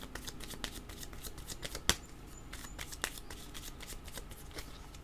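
A tarot deck being shuffled and a card drawn, with rapid crisp riffling flicks and soft card slaps up close, one sharper snap near the middle, over a quiet background.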